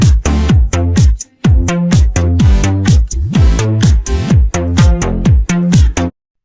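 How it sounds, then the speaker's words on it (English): Sidechained synth bass from a pop track, heard with the original mix: a steady run of pumping bass notes, each ducking sharply on the beat in a tight, driving rhythm, loud and alone before stopping abruptly. "So there's a bass with the original track"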